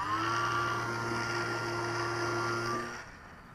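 A small radio-controlled KK Ajax model plane, converted from rubber power, drones with a steady electric motor whine, close and even, then cuts back sharply near the end.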